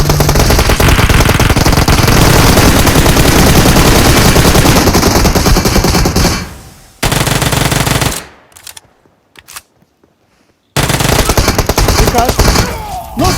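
Dense automatic gunfire from the mobile battle royale PUBG Mobile, loud, sustained bursts for several seconds, then a sudden dropout and brief quieter gaps before loud firing resumes near the end.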